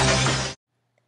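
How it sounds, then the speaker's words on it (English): A glass shatters loudly in a single burst of breaking that lasts about half a second, then cuts off into near silence. "like when a certain pitch is sung so loudly that it breaks a glass."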